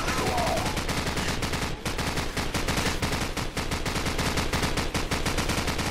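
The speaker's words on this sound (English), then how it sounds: "Hit their flank with their machine gun." Sustained machine gun fire in Call of Duty 4: Modern Warfare during a battle in a bog, rapid continuous loud bursts that barely pause, with other gunfire layered in.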